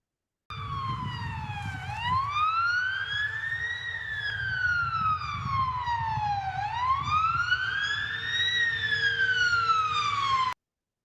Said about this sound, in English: So we all know what a siren is like